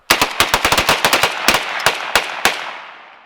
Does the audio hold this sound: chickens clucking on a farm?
no